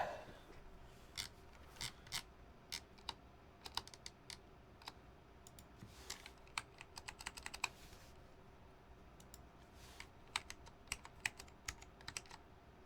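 Computer keyboard typing during a desoldering and scanning session, with irregular bursts of crisp key clicks coming in quick runs and pauses over a steady low background hum, close and fairly quiet.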